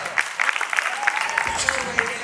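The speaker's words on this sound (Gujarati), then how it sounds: "એક્સ્ટ્રા તાળીઓ થઈ જાય ખરેખર" Rhythmic clapping at a wedding sangeet evening, regular beats keeping time under music and singing voices, moderately loud and close.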